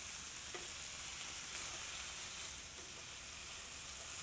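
Slice of beef rosace searing in a hot pan, with a steady, quiet sizzle and faint scraping as it is turned, no talking.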